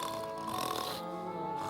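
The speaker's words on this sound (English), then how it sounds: "the woodchuck can help snoring through these court proceedings" A cartoon woodchuck snores in a short, soft, nasal snort over a faint background, one drawn-out breath lasting under two seconds.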